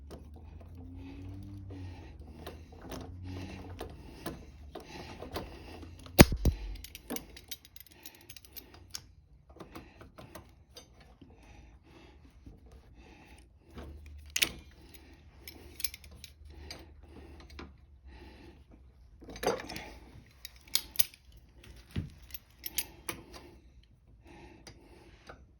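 Clicks and small metallic ticks from a hose clamp being worked off the carburetor of a Kohler 6.75, 149cc engine on a Toro Recycler 22 push mower, faint and intermittent with scattered sharper snaps.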